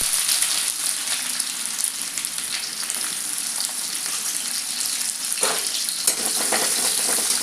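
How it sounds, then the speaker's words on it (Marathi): Onion sizzles loudly with cumin seeds and whole spices in a hot pan, a dense unbroken hiss heard close, with occasional stirring scrapes and a brief louder burst, and nobody speaking. "थोडंसं मोरी जिरं लगेच त्यामध्ये कांदा घालायचा"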